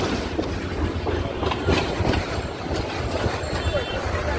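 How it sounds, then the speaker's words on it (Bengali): A passenger train bound for Chandpur and Brahmanbaria rumbles along with a steady rhythmic clickety-clack of wheels on rails, heard loud and close from inside a carriage, with faint voices underneath. "সবাই দেখেন আমরা সবাই ট্রেনে চাঁদপুরে ব্রাহ্মণবাড়িয়া যাচ্ছি।"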